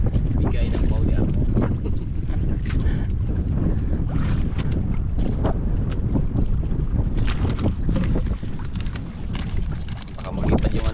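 Strong wind buffets the microphone on a small fishing boat at sea, a steady loud roar with gusty rumble throughout, while people talk faintly underneath.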